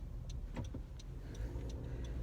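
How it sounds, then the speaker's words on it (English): Steady road rumble from inside a moving car, with a constant low drone and a few faint ticks above it, and no talking. "right now, I'm driving in my car"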